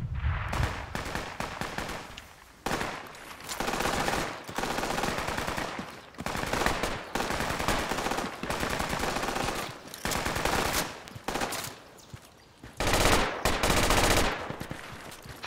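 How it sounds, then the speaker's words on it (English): Gunfire from an iron-sight AK and other weapons in Project Reality, loud repeated automatic bursts separated by short pauses, continuing through most of the stretch with little talk. "Enemy shooting northwest."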